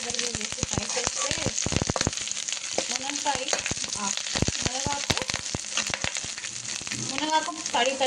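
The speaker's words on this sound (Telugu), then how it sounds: "మునగాకు తడిగా ఉంటుంది కాబట్టి కరివేపాకు ఫ్రై సరిగా అవ్వదు, అందుకని సపరేట్గా ఫ్రై చేసుకోవాలండి" Curry leaves and drumstick leaves frying in a pan give a steady, busy sizzle with sharp crackles and pops throughout, close and fairly loud, with faint bits of voice underneath.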